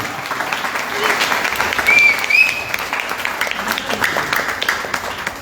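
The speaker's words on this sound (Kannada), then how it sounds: "ಜೋರಾದ ಚಪ್ಪಾಳೆ ಅವರಿಗೆ" Loud, dense applause from an audience at a devotional music gathering, sustained for several seconds with a steady wash of clapping and a couple of brief whistles, with voices underneath.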